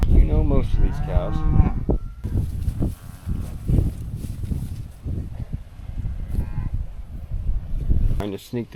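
Cattle moo loudly and repeatedly in a farm herd with bulls present, deep lowing calls overlapping one another while someone talks nearby between the calls.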